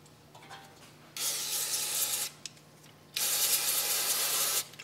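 Aerosol carburetor cleaner sprayed onto the reed valve of a two-stroke carburetor in two sustained, close hissing bursts of about a second each, separated by a short quiet pause.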